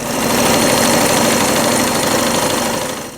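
A sewing machine stitches folded fabric for a hair bow, giving a loud, continuous, close-up motor hum with fast rhythmic needle chatter throughout.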